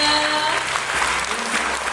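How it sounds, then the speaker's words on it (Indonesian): An audience at a motivational big-dream seminar bursts into loud, sustained applause for fellow participants, a dense crowd clatter with a voice briefly audible at the start. "Tepuk tangan dong buat teman-teman kita dan mimpi-mimpinya."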